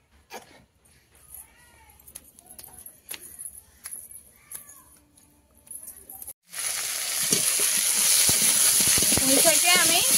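Taro and malabar spinach hit hot oil with reddened fried onions, bursting into a loud, continuous sizzle after a stretch of quieter kitchen sounds and someone talking.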